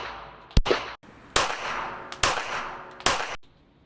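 Four sharp pistol shots are fired with the support hand only, spaced about a second apart, each a loud crack followed by a short ringing decay, close and alone with no talking.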